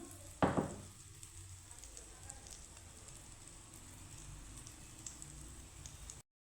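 A ladle of semolina batter hits a hot pan with a sudden loud sizzle that quickly settles into a steady, quieter frying hiss on low flame.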